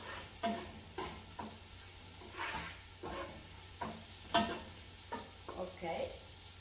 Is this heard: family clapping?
no